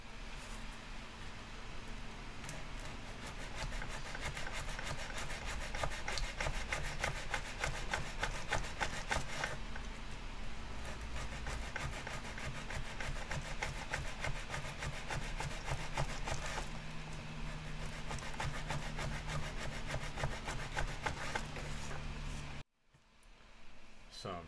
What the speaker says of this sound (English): I'm just going to keep sanding all the way around until I get down to about 10mm all the way around.